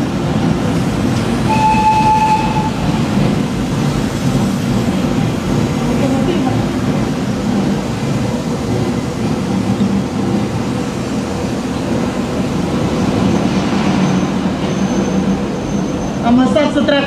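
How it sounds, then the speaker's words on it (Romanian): A locomotive-hauled train rolls past at an official reception ceremony in Moldova, a steady, loud rumble of wheels and engine filling the whole stretch, with a brief horn near the start and speech faintly underneath. "Avem și un tren."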